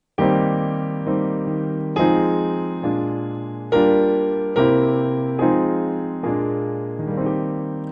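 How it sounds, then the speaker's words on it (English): Piano chords of a song played with both hands, left-hand shells under full right-hand chords, eight or so struck chords in a slow, even rhythm, each ringing and decaying, clear and alone. "I recommend playing the chords in the song with both hands"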